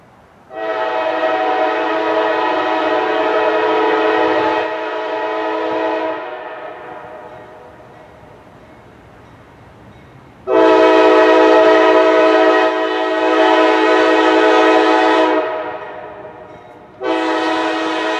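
Loud, sustained train horn blasts sounding in long stretches with brief pauses, a train passing nearby.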